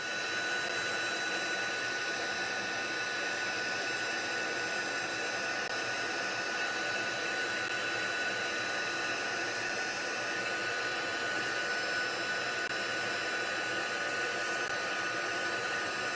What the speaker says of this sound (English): And then as it melts, I just slowly move the heat tool around to the other areas.